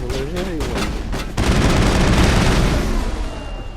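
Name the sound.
explosions in Mass Effect video game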